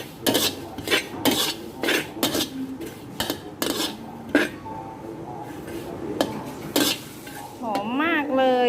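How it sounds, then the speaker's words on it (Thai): Lemongrass dry-roasting in a pan is stirred with a utensil, giving sharp repeated scraping knocks against the metal over a faint sizzle, close by, with brief voice sounds near the end. "การต่อไปเราก็ขั่วตะไคร้ให้สุกนะคะ"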